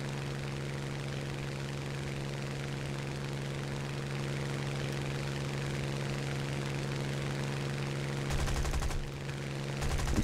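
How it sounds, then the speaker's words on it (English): Machine guns on a Spitfire Mk 2B fire in War Thunder, a short rattling burst near the end over the steady drone of the aircraft engine, with a further burst starting as it closes. "I'm just using my machine guns to scare him"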